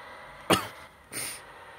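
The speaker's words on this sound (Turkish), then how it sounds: "Arada öksürebilirim arkadaşlar, kusura bakmayın." A sick person coughs twice, close and abrupt, the first cough sharper and the second a raspier throat-clearing hack, over a low steady background hum.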